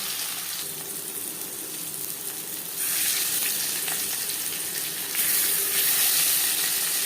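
Marinated katla fish pieces fry in hot oil, a continuous loud sizzle and hiss that swells stronger in stages as more pieces go into the pan.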